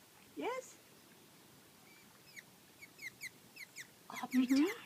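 A hummingbird near a feeder gives a short series of faint, high, thin chirps spaced a fraction of a second apart, with quiet voices talking nearby.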